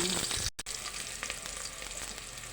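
Onions frying in a pan while being stirred, a continuous close sizzle with scraping stir noises and a brief dropout.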